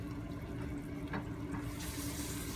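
About a cup of water poured from a measuring cup into a pot of rice with pink beans, a quiet brief splashing trickle in a kitchen.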